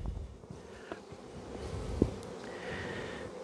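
Honey bees hum around an open hive as a beekeeper works the colony on a calm day, a soft continuous buzz with individual bees passing near, faint and steady, with no talk.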